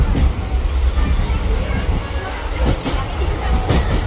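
A train rumbles steadily along the tracks while crossing a river in thick fog, with a constant low roar and faint rhythmic clatter from the wheels, heard from inside a carriage.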